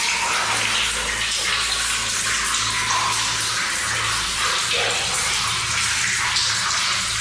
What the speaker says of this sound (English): There's water dripping,